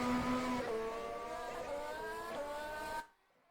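An Alfa Romeo Formula 1 car's engine in a racing video game at the Australian Grand Prix, a loud, high, steady whine with rising gear tones that cuts off abruptly near the end.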